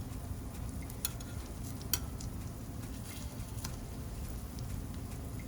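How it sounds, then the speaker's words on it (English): Food fries in a pan on the stove for Jamaican rice and peas and gets turned, giving a steady low sizzle with a few light clinks and taps from the utensil, with no talking. "I'm going to fry. So I'm just going to turn them."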